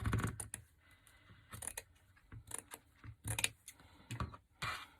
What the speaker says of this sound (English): I'm gonna just cut it at an angle.